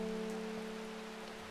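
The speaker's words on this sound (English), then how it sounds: "I love the sound of the rain" Steady, soft rainfall patters continuously in the video game Strange Horticulture, an even hiss of rain on a surface with a low ambient hum beneath, no voices.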